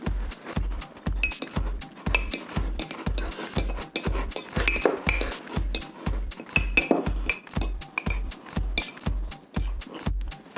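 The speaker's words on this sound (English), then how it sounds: "Using the fork, I am going to nicely mix up the drying ingredients." Fork clinking against a mug in a steady rhythm while mixing dry chocolate mug cake ingredients such as cocoa powder and baking powder, with roughly two metallic taps per second, close and fairly loud throughout.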